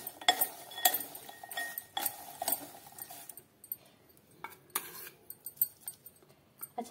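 Spoon or utensil clinking against a glass or metal bowl while spices are tossed into fried potato lachha namkeen, a run of light scattered taps and scrapes with quieter pauses, no talking.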